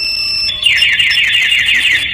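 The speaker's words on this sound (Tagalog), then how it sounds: "mag-a-alarm na po yung motor." A Yamaha Fazzio motorcycle's anti-theft alarm kicks in after a brief moment, a loud, close electronic siren warbling rapidly and continuously until it cuts off.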